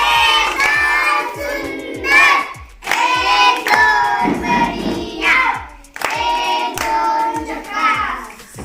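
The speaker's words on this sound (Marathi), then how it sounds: "जोरदार टाळ्या वाजवा" Loud, sustained clapping from a group of children and adults applauding a child who solved a matchstick-style stick puzzle, with bursts of cheering and children's shouts running continuously through the applause.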